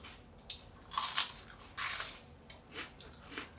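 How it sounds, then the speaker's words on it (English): Close, crisp crunching from a few bites and chewing of a crunchy Monkey Face red chilli, irregular bursts of crackle against quiet background. "It's very crunchy. You can probably hear that."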